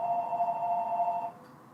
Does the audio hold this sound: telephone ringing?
yes